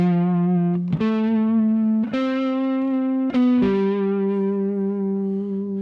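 A 1962 Hofner Colourama electric guitar played through fuzz distortion, ringing out sustained, buzzy single notes that change pitch a few times over several seconds, loud and close with no talking.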